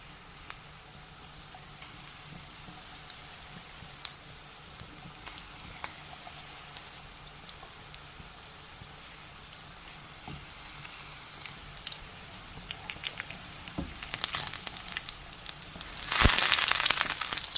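Tapioca pieces dropped into hot coconut oil, a faint crackle that swells into a louder bubbling sizzle near the end.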